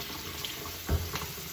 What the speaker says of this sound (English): I'm going to start by turning on the water on warm